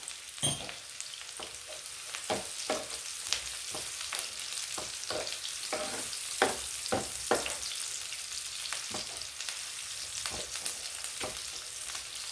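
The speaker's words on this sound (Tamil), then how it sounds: "வெங்காயம் கொஞ்சம் நல்லா வதங்கணும்." Onions sautéing in a pan for a fish fry, a steady sizzle and crackle with sharp, irregular stirring clicks as a utensil scrapes through them, close and alone with no talk.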